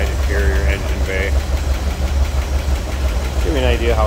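A 1965 Chevrolet Corvair Monza convertible engine idling with a steady, low, even rumble throughout, with a person talking over it at moments.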